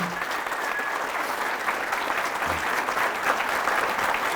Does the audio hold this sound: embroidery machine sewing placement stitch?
no